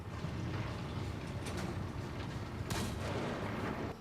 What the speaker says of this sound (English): I just like hearing that cannon.